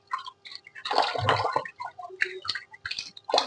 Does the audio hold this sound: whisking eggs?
no